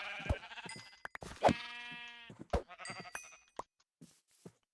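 Several bleats from a baby sheep in Minecraft, a mix of short and drawn-out wavering cries, with brief pauses and clicks between them.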